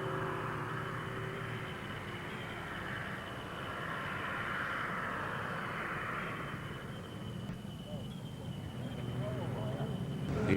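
An Extra 300 aerobatic plane with a fuel-injected engine is heard at an airshow as a steady, broad engine drone, with a long sustained roar that slowly rises in pitch near the end, and indistinct crowd or announcer noise mixed in.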